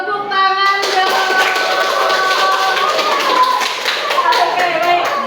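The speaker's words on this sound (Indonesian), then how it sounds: "Oke, tepuk tangan dong." Classroom applause from a group of children, many hands clapping together in a dense, lively burst that carries on for several seconds. A teacher's voice is heard briefly near the start.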